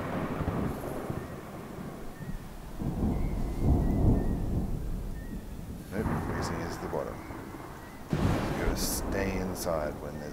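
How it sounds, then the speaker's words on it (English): Thunder rumbles heavily in a stormy game world of Smalland, with rain and gusting wind underneath; the rumble swells, fades, then returns with sharper cracks near the end. "When there's a storm."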